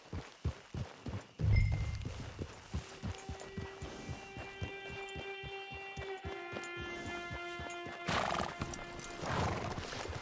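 Horse hooves clip-clop in steady walking steps with a loud whinny early on, from the video game Red Dead Redemption 2, heard alone without talk.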